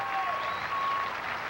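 Crowd applauding and cheering at the 1995 Hermosa beach volleyball final, a continuous distant wash of clapping with whistles and voices woven through it.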